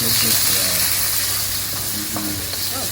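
Thai garlic, skin left on, stir-fried in a pan for spring rolls, a close steady sizzle with stirring scrapes and brief murmured voices in the background.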